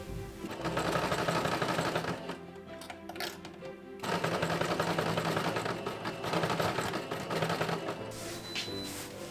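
Sewing machine stitching seams on short cosplay bloomers, a loud, close, rattling hum that runs steadily, halts briefly, then starts up again and continues.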